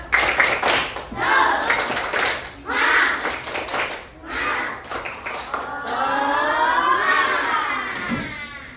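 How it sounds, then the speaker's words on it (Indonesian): Schoolchildren in a classroom do a rhythmic spirit clap, short bursts of clapping in a patterned beat mixed with children's chanting voices, ending in a longer sung or chanted phrase. "Tepuk semangat."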